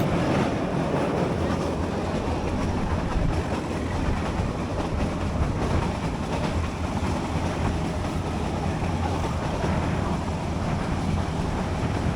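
Meter-gauge train running from Junagadh toward Sasan Gir near the Gir forest, a steady broadband rumble of wheels and carriage with wind buffeting, continuous and loud throughout without any talk.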